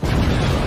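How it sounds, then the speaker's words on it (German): A bomb blast in a cartoon parody, one short dense burst of explosive noise filling the moment at close range and loud, with no talk over it. "wo kam denn die Bombe her?"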